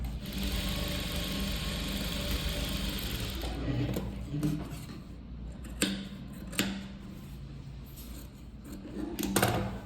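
A sewing machine stitches the front darts of a blouse, running in a steady whir at first, then breaking into shorter bursts with small clicks and handling noises.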